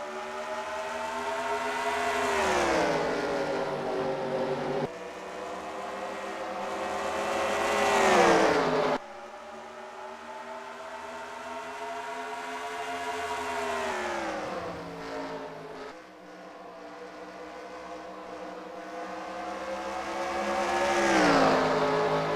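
Race cars in an NNSCRA Cup Series event at New Hampshire roar through a rolling start, engines rising and falling in repeated loud sweeping revs as the field accelerates and passes, with no talk over them.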